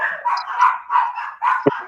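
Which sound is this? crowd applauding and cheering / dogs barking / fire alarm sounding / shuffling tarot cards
dogs barking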